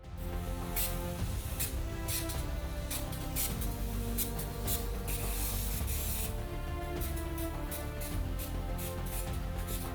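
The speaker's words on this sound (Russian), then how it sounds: "А для придания блеска нашему крокодилу нанесем специальный шеллак-спрей." Repeated bursts of shellac spray hiss close by as it is sprayed onto a chocolate crocodile, short and long puffs following one another in an irregular rhythm with no talking.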